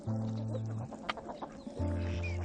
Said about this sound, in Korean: 싸움의 발단은 흥부가 교미하려고 시도했고 암탉이 이를 거부하면서 일어나게 되었다